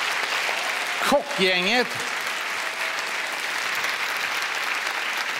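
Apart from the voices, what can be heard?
audience applause for the chefs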